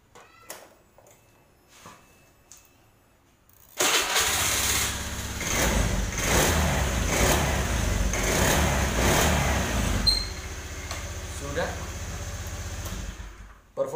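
After a few quiet seconds of faint sounds, a fuel-injected motorcycle engine starts after an ECU reset and runs loudly, revving in pulses before settling near the end.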